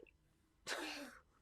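A single sneeze bursts out sharply after a brief quiet moment, close and fairly soft, during a casual conversation about books.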